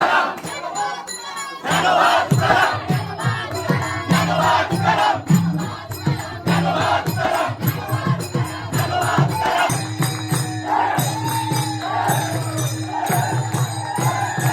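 Crowd cheering and shouting in celebration at a Vitthal-Rukmai temple palanquin procession in Maharashtra, a dense, loud, continuous roar of voices with rhythmic drumming pulses throughout.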